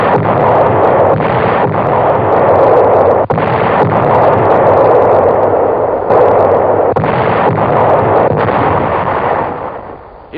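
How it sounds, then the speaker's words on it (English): Heavy artillery guns of the US Third Army firing near Metz in 1944, a dense, continuous roar of overlapping booming blasts that stays loud throughout before fading slightly at the end. "Our big guns open up."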